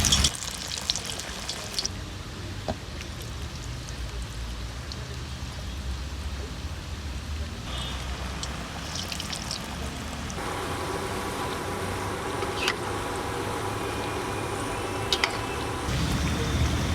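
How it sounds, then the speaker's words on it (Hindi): Cheese-stuffed onion pakoras frying in hot oil, a soft continuous bubbling sizzle with scattered pops that grows slightly busier partway through, heard alone with no talk. "और इसे अभी हम फ्राई कर लेंगे।"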